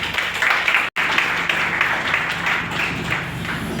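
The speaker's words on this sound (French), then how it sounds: "on applaudit le président." An assembly hall audience claps for a senator at a political party meeting, a loud, dense, continuous wash of applause broken by one brief dropout before it carries on.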